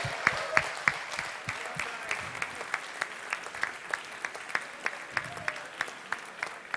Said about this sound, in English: Let's give one more big round of applause to our NUEL champions.